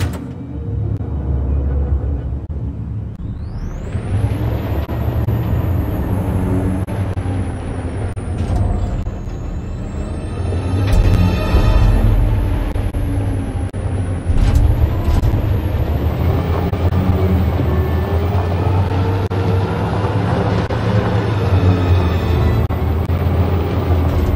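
A heavy truck engine revs and rumbles in Detroit: Become Human, then its pitch climbs with repeated hissing air-brake bursts, loud and close, with game effects over it.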